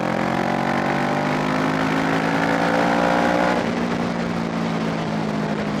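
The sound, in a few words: 650R two-cylinder motorcycle accelerating at full throttle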